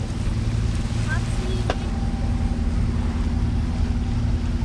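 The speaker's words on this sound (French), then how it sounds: "Oh, mon moteur qui respire un peu." A sailboat's engine runs steadily through the Corinth Canal, a continuous low droning hum with harmonic bands under faint wind, while a voice speaks briefly over it.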